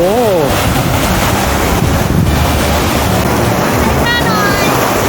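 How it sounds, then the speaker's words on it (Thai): Strong sea waves at Cha-Am beach crash and roar continuously, loud and close, with heavy wind buffeting the microphone throughout. "โอ้คลื่นแรงมากเลย"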